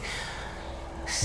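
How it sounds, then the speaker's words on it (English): A slumbering creature in an audio story breathes once, a soft, close, drawn-out breath over a low hum and faint ambience, ending in a brief louder exhale. "Listen. It's breathing. Slumbering."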